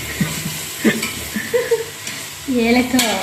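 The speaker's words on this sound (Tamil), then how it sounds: "அந்த இஞ்சி பூண்டு பேஸ்ட்டு போகிற வரைக்கும் கிண்டிகிட்டே இருக்கணும்." Ginger garlic paste for chicken biryani fries in a pan with a continuous sizzle. Several stirring scrapes and clinks of a spoon come close up, and a voice also sounds briefly.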